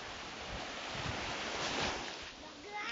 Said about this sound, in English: Punawan Beach.